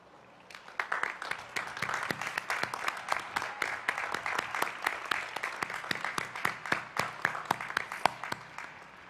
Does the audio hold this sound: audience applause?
yes